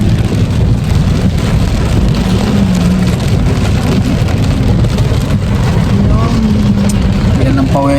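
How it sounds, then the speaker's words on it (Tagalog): Steady rain falls in Lipa, Batangas, a dense continuous hiss with patter that stays even throughout, mixed with the low rumble of a passing vehicle and faint background sounds. "Kaso umuulan."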